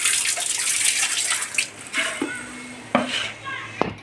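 Water splashes and runs as it is poured into a pot of masala cowpeas, with metallic clinks of the pot and utensils near the end and a brief voice in the background.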